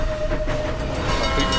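A big train rushes past in the racing game Need for Speed The Run, a steady loud rumble of rail noise with a thin tonal whine, close and continuous for under two seconds with no talking.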